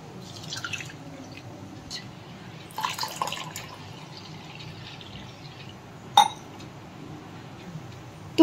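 Water trickles and splashes into a bowl of washed moong dal, soft intermittent pouring with scattered drips and a few sharp clinks of utensils, close and fairly quiet.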